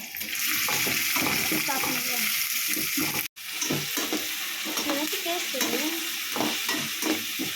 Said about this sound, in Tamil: இப்போ நல்லா நம்ம ஆனியனை வதக்கிட்டு இருக்கோம்.